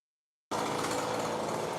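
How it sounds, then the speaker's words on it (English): Outdoor lawn work with a leaf blower or edger, a steady loud motor whine that starts abruptly after a half-second of silence and holds constant to the end. "it sounds like they're coming through with a leaf blower right now"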